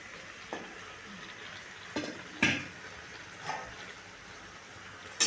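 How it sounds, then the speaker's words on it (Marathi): A spoon scrapes and stirs through carrot halwa in a pan after milk and cream are added, with a soft steady sizzle underneath and a few sharp clinks against the pan. "दूध टाकल्यानंतर ते पूर्ण असं मिक्स करून घ्यायचं छान असं"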